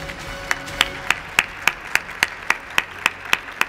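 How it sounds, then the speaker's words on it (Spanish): Audience applause at the 2019 Noche de los Mejores awards gala: a slow, regular run of single loud claps at an even beat, about one every third of a second, rather than a full crowd ovation. "Felicitaciones, un fuerte aplauso,"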